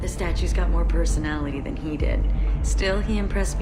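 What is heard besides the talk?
No distinct noise like a dog, phone or traffic.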